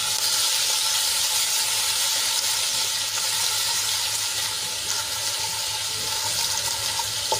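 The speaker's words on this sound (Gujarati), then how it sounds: "તેલમાં આપણે એને સરસ રીતે સાંતળી લઈશું." Garlic and chili paste sautés in hot oil with a pinch of asafoetida, giving a steady, dense sizzle that stays loud and close through the whole stretch, with no one talking over it.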